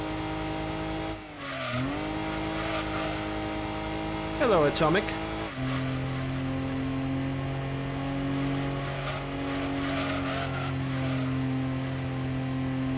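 A Suzuki Cappuccino race car engine in Gran Turismo 2 on PlayStation, holding a steady high drone with a brief dip and a quick rev sweep midway, while someone talks over it.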